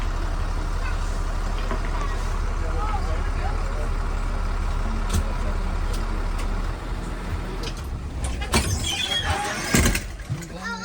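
A bus brakes squealing loudly through a hard stop near Crazy Horse Memorial, a steady high shriek over heavy engine rumble that breaks off near the end with rattling and clatter.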